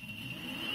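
Riptide R1 electric skateboard motor at full throttle: a brief, steady, high-pitched electric whine over a low hum, close and constant.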